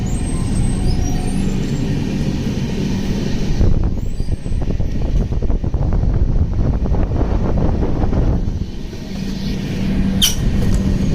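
Express train running through Odisha, heard from outside the coach near the door, a loud continuous rumble of wheels and wind buffeting with rhythmic clatter and a brief squeak, no voices.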